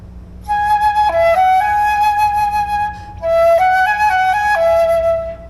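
A flute plays a smooth legato phrase, pauses briefly, then comes back in softly with no sharp attack and continues the melody, bright and close.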